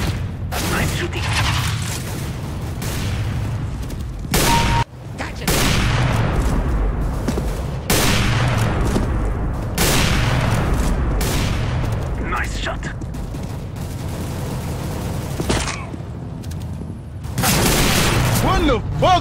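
Rapid gunfire and sniper shots crack through a Counter-Strike: Global Offensive deathmatch, loud bursts and single booms repeating irregularly with mechanical reload clicks between them, while players talk over the action.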